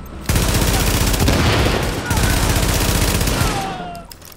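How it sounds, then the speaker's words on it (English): Heavy, continuous automatic gunfire from a powerful weapon in Tom Clancy's The Division, played on Xbox One underground, loud and dense for several seconds before tapering off, with faint talking beneath. "this gun is way too powerful"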